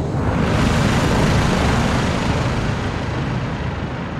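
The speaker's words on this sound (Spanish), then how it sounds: "Viene un helicóptero." A helicopter in the video game Call of Duty: Modern Warfare 2 (2022) gives off a steady, loud, broadband roar of rotor and engine noise that fills the scene without a break and fades only slightly toward the end.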